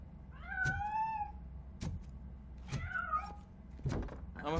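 A cat in RoboCop: Rogue City meows twice, drawn-out and fairly close, amid soft thumps and knocks over a low ambient hum, with no talking.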